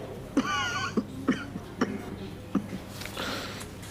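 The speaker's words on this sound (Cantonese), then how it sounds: "之後就越咳越嚴重。" A hospital patient with suspected pneumonia gives a series of short, harsh coughs, about six sharp bursts at irregular intervals. They sound close, with speech around them.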